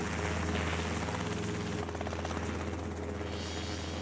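A helicopter mustering feral bulls in the Australian outback, its rotor chop and engine drone loud and continuous throughout, with no voices.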